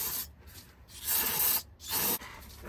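Aerosol brake cleaner sprays onto the side of a Ford F250 Super Duty diesel's transmission pan in three hissing bursts, the middle one longest and loudest, each rasping up close with short breaks between.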